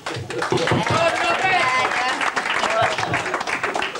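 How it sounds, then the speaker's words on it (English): Guests at a 70th birthday party in Prestatyn applaud Robert Cooper: a loud, sustained round of clapping from a roomful of people, with voices and cheers mixed in throughout. "let's have a big round of applause for Robert Cooper"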